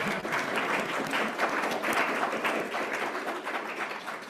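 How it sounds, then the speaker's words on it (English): A room of people at an astronomy coding event applauds after a group presentation, a moderately quiet but continuous wash of clapping that holds evenly throughout. "Lots of applause here."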